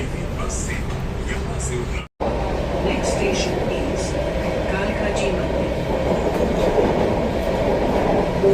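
An underground Delhi metro train at Jangpura station rumbles steadily with a rhythmic clickety-clack of the wheels and a brief dropout near the start, while voices talk faintly beneath the loud, continuous noise.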